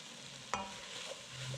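A spoon scrapes once against a pot as flour is stirred into a cheesy corn chowder base, followed by a soft low sizzle and a few faint clinks, quiet and close.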